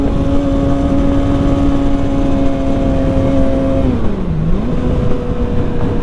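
A Kawasaki ZX6R motorcycle engine holds a steady, high whine close up, then the pitch dips and recovers as the revs shift, over a constant roar of wind and road noise.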